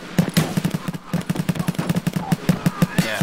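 Rapid gunfire from Escape from Tarkov, a fast, loud burst of evenly spaced shots that runs almost nonstop for about three seconds, close and sharp with only brief gaps.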